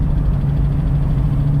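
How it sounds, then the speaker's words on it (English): Plymouth Barracuda Hemi engine running, a loud, steady low rumble with a slight throb and no talk over it. "Yeah, the car can be very rowdy."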